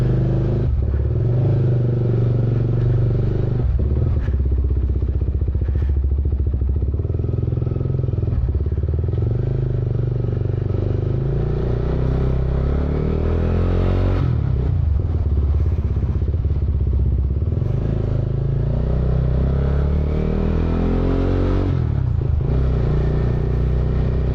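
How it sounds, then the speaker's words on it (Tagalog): A motorcycle engine warms up at a steady idle, close and continuous, with a few throttle blips and light mechanical clatter over the low rumble. "Ano lang, mild lang tayo magpa-andar painitan yung makina."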